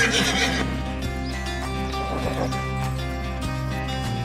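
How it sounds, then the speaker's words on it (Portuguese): A Mustang horse whinnies loudly and close, its high quavering neigh carrying over a steady low background. "O som de um relincho ecoa diferente quando não é de liberdade, mas de medo."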